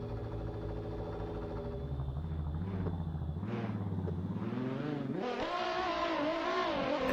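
In a virtual drift championship round at Londrina, a Red Bull Nissan S15 and a BMW sit at the start line of a sim racing game, engines idling and revving steadily. The pitch climbs in stepped surges near the end.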